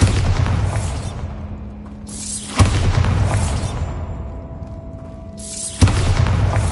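Three loud, booming blasts from the Bombarda spell in the Hogwarts Legacy video game, each a sharp burst at roughly three-second intervals, fading into a low rumbling tail between them.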